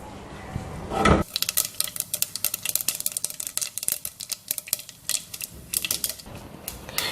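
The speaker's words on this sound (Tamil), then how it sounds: "கடுகு நல்லா பொரியட்டும்." Rapid crackling pops and sharp ticks spatter continuously after a brief clatter as mustard seeds burst in hot oil for sambar tempering, fairly faint and close.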